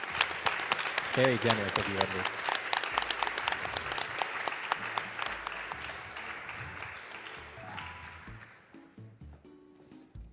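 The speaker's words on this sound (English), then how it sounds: "I'll give that another clap." Audience applause at a live Pokémon HeartGold/SoulSilver speedrun charity marathon event, a dense burst of clapping that fades toward the end, with a voice talking briefly over it.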